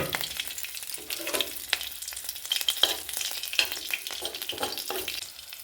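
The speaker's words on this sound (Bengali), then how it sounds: "এবার কড়ায় সর্ষের তেল দিয়ে দিয়েছি। এবার এখানে শুকনো লঙ্কা, কাঁচা লঙ্কা চেরা, শুকনো লঙ্কার 5 ফোড়ন একটু ফোড়নে দিয়ে দিচ্ছি।" Dried red chillies and slit green chillies fry in hot mustard oil in a kadai for tempering, a steady close sizzle and crackle broken by scraping stirs, with no talk.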